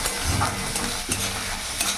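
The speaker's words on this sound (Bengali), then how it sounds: "ভালো করে পেঁয়াজ টমেটো ভাজা ভাজা হয়ে গেছে।" Onions and tomatoes frying in a pan, a close, dense sizzle with soft scraping strokes of stirring, steady and fairly loud, with no voices.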